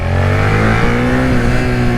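Suzuki SVF650 Gladius V-twin motorcycle engine revving high, a loud, steady close-up engine drone with harmonic tones that climb and shift in pitch without a break, no voices over it.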